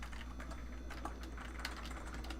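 Faint, irregular clicks of someone typing on a computer keyboard, while checking specs on an old computer from a collection, over a steady low hum.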